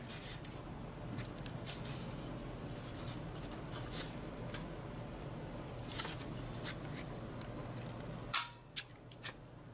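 A CADY corner rounder punches paper corners in a few sharp clicks near the end, set against a steady low hum and faint rustling.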